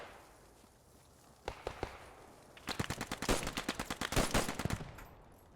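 Gunfire in the video game Post Scriptum: a few single sharp shots, then a rapid automatic burst of many evenly spaced cracks, loud and close, with no talking.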